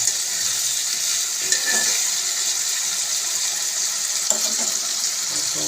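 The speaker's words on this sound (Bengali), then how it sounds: "আলু ভাজার সাথে মশলাটা কষালেই আলুটা সেদ্ধ হয়ে যাবে" Potatoes fry with spices in a pan, giving a steady, even sizzle with faint clinks from stirring partway through.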